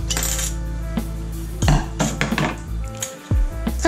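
Large scissors cut a small piece of sheet metal for a homemade fishing spoon lure, giving sharp metallic snips and clinks in irregular bursts, close and fairly loud.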